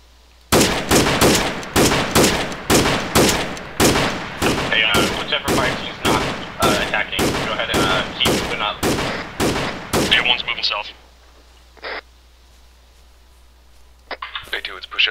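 Gunfire in Arma 3 during a Bourbon Warfare milsim firefight: about twenty loud, close, evenly spaced shots over ten seconds, followed by a short quiet gap and then faint radio-like blips.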